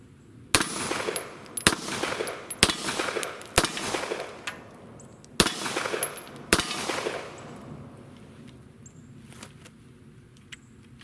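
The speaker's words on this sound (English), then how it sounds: "Well, it fired every round." HiPoint C9 pistol firing a string of rounds outdoors, seven loud sharp shots at irregular one-second intervals, each followed by a rolling echo, then fading quiet.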